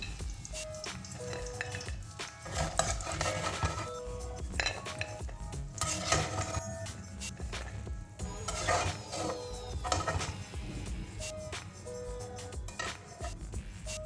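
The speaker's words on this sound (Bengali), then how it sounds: "এবার আমি এগুলোকে প্লেটের মধ্যে তুলে নিচ্ছি" Crisp fried egg-based snacks are lifted from a pan onto a plate: repeated metallic clinks and scrapes of a utensil over a faint background sizzle of oil, near and busy throughout.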